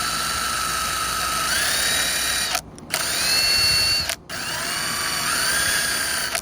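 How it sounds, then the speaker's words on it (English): A power drill fitted with a wire brush scrubs a differential bolt on a third-generation 4Runner/Hilux Surf, a loud steady whine briefly cut off twice, then spun back up, with no talking. "I'm gonna go ahead and wire brush the top bolt just to make it look nice and prevent rust."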